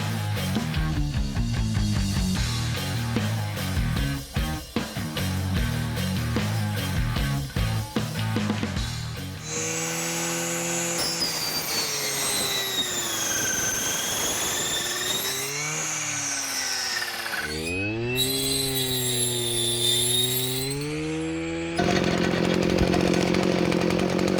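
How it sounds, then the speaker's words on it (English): An ECHO SRM-410U gas brushcutter cuts through thick, stringy weeds, its engine roaring loud and close without a break and its pitch rising and falling as it bogs under load and revs back up. "So Brushcutter works really good on things like this."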